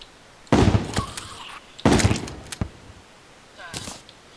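Shotgun blasts in Terraria during the Wall of Flesh fight, three sharp bursts with short rattling tails, two close together near the start and a fainter one later, with no talking.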